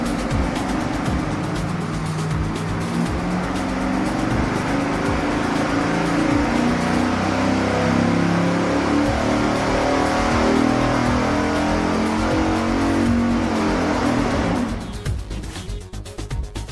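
Engine running on a dyno fitted with block hugger tubular headers: a loud, sustained roar held steady for about fifteen seconds, then cutting back sharply as the revs drop.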